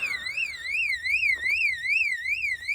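Fire alarm system triggered by real smoke, sounding a loud, close electronic siren tone that sweeps up and down in a steady repeating cycle, heard alone.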